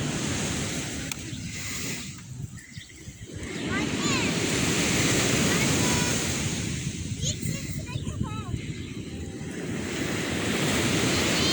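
Sea waves washing onto a beach, a steady loud surf roar with wind buffeting the microphone, dipping briefly around two to four seconds before swelling again; faint calls or voices sit in the background.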